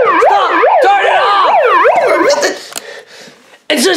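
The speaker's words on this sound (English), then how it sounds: "Just it has a siren on it." A toy bullhorn's siren wails loudly and close up in rapid up-and-down sweeps, then cuts off abruptly and restarts briefly at the end, with children's voices faintly audible.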